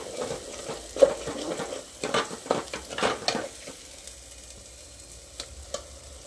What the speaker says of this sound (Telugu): సిమ్లోనే పెట్టి వేగించుకోవాలి. వేగిపోయేటప్పటికి నూనె అంతా తేలిపోద్ది.